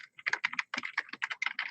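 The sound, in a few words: typing on a computer keyboard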